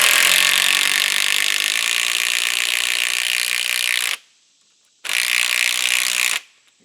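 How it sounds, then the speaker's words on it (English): A hand ratchet drives a lag screw into a tree trunk while a hanging wooden tree stand is mounted, with a long run of loud, rapid clicking, a brief pause, then a second shorter burst. "Then I'll take my lag, find that starter hole, and I'll drive it into the tree."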